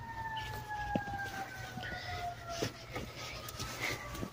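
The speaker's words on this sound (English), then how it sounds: "Oh my god, there's police sirens." Police sirens wailing, rising and falling in the distance on a snowy day, steady and continuous over a low background rumble, with faint sounds nearby.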